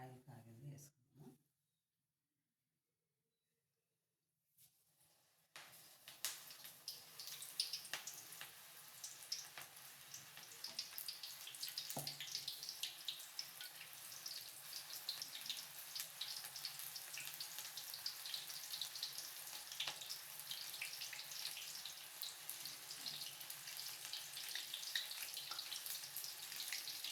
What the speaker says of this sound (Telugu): ఆయిల్ కాగింది, వేసుకున్నాము.